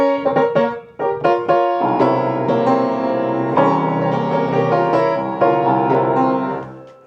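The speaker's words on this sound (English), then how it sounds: "So what I'm envisioning is something like the Schumann, like short pieces" Solo piano playing a short Schumann-style piece: a few detached opening notes give way to sustained, ringing chords and a flowing melody, close and clear with no talking.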